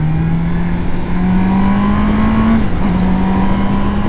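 A new Honda CB650R motorcycle's four-cylinder engine runs close and loud, holding a steady droning note that rises slightly, then dips and settles.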